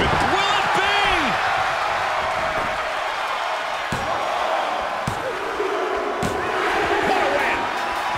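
Arena crowd in WWE 2K24 roars steadily through a Rhea Ripley versus Bianca Belair wrestling match, loud and continuous, with a few sharp slams and thuds and a commentator's voice over the top.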